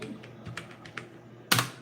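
A few light, scattered keystrokes on a computer keyboard while typing fruit names into a bulleted list, ending in a louder, sharper key press; close and fairly quiet with no talking.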